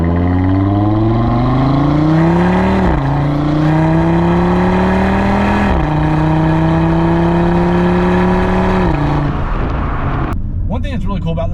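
A 2020 Audi RS3 with its turbocharged five-cylinder engine revs loud and close, its pitch climbing through several rising sweeps with brief drops between shifts before it settles and cuts away near the end.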